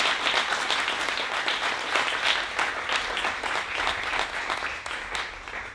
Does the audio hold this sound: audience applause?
yes